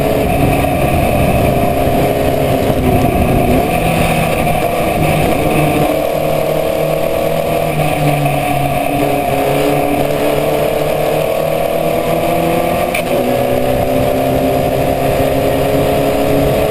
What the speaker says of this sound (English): the engine doesn't respond very well when it's revving so low